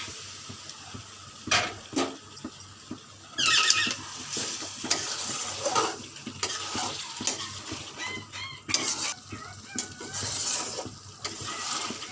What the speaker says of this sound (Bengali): এইভাবে কষতে থাকবো কিছুক্ষণ।